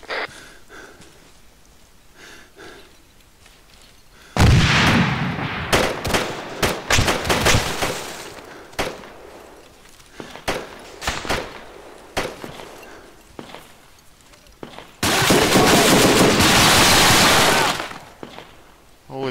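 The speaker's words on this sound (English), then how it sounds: "Is there a gunfire coming from the southwest?" Loud bursts of automatic gunfire and blasts ring out in a military shooter game, two long sustained volleys with scattered sharp shots between, and voices talk intermittently.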